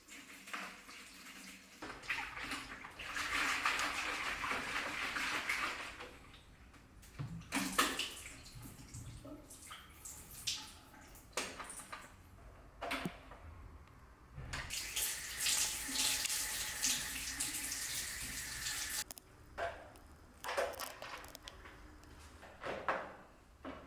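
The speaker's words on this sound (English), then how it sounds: "rinse the dirty tank and the brush with clean water" Water gushes from a tap to rinse the dirty water tank and roller brush of an Ilife Shinebot W450 robot mop, running in long bursts broken by pauses, splashes and plastic knocks as the parts are handled.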